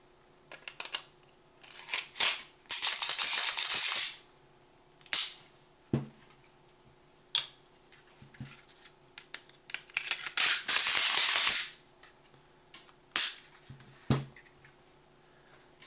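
Glock 17 and Glock 19 pistols are put back together at close range: a run of sharp metallic clicks, snaps and slide rattles in scattered bursts, with two longer scraping stretches of parts sliding.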